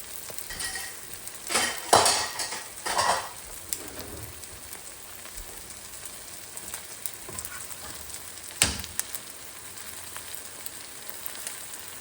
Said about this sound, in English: So the egg's cooking.